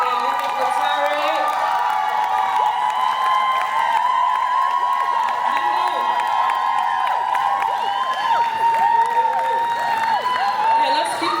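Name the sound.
crowd applause and cheering for a poet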